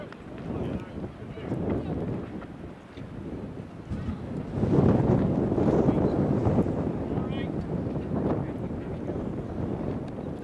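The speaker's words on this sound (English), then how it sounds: "some of these gusts today" Rumbling wind buffets the microphone in uneven gusts at a high school baseball game, strongest in the second half, with a play-by-play voice talking underneath.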